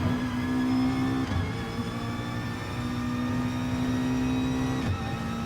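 McLaren GT4 race car in a racing video game at Suzuka, its engine holding a steady, loud whining drone with a couple of brief dips as gears shift, heard alone.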